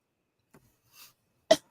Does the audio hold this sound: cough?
yes